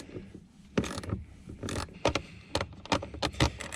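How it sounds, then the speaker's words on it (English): A deep well socket wrench loosens 10mm bolts while a Toyota Tacoma's tweeters are being swapped, giving a series of close, sharp metallic clicks and ratcheting taps in an irregular rhythm. "We're gonna get those off with a socket wrench."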